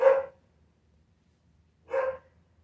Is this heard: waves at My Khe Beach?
no